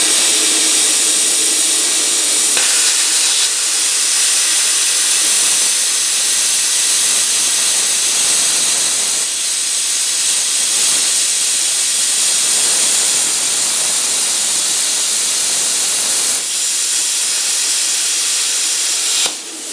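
A cheap Cut-40 plasma cutter slices through metal with a loud, sustained hissing roar of compressed air and arc, steady for the whole stretch with a few brief dips, no talking over it.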